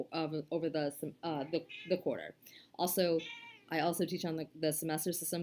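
A house cat meows and cries faintly in the background, partly masked by a person lecturing continuously in the foreground.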